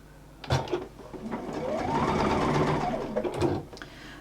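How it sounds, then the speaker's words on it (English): Sewing machine stitching a ribbon in place, a close, steady whirring run of stitches that rises and settles over a few seconds, with light handling clicks at the start and end and no speech. "we'll pull the machine in. There we go, and we'll just stitch that ribbon in place"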